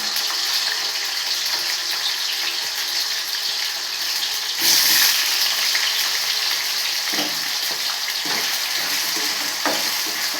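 Raw plantain pieces fry in hot oil with a continuous, dense sizzle that swells briefly partway through. A few soft stirring knocks sound close by.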